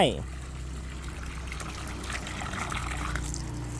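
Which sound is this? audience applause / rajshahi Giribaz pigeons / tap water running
tap water running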